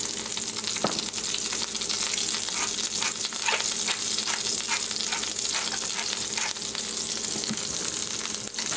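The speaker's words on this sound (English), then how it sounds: "transfer it to the skillet to start cooking" A hamburger patty fries in a hot skillet with a steady, close sizzle and scattered pops and crackles throughout, no one talking.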